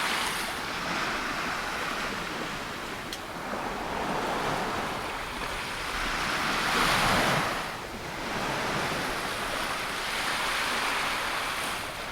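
Ocean waves at Bournemouth, England wash and break steadily onto a beach, a continuous surging roar with swells rising and falling, mixed with some wind buffeting the microphone.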